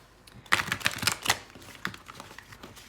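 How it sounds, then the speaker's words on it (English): Tarot cards are shuffled by hand, a quick run of crisp riffling and tapping clicks, close and fairly loud, then fading to a few scattered taps. "All right, so we're going to shuffle these cards."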